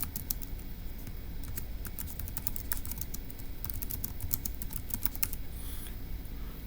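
Typing on a computer keyboard, heard close and alone as a continuous run of quick, light key clicks with an uneven rhythm.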